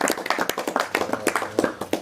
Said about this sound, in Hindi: तालियां बाजी साहब सारे।